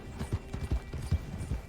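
Horse hooves clip-clop at a steady trotting rhythm in Red Dead Redemption 2 Online, a series of about five dull, low thuds spaced evenly, fairly close and alone with no talk.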